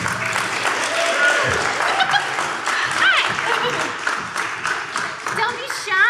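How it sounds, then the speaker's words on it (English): Convention crowd applauding voice actors as they come on stage at a Dragon Ball Z panel at Thy Geekdom Con, steady broadband clapping with chatter and a few calls mixed in, fairly close and full. "Give them a big round of applause."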